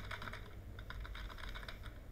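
Typing on a computer keyboard, a quick run of soft close key clicks at a steady pace over a faint background hum, no talking.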